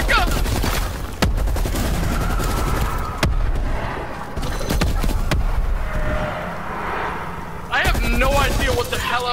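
Gunfire in Call of Duty Cold War Zombies, loud repeated bursts with sharp broadband cracks through most of the stretch, mixed with other game noise and voices talking.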